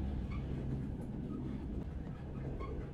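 A train rumbles past in a video game, a low, steady rolling drone with faint rattling, moderately loud and continuous for the whole moment.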